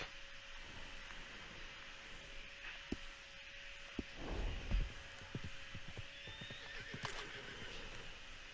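A horse in the video game Red Dead Redemption 2 lets out a whinny amid faint hoof clops and a low steady hum, the call rising midway then fading, quiet and somewhat distant with no one talking.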